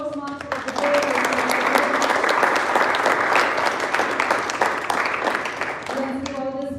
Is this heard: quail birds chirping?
no